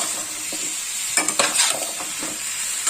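Cubed bottle gourd (lau) stirred in a sizzling pan: a light, continuous fry hiss broken by several quick scraping spoon strokes in the middle, with no talking.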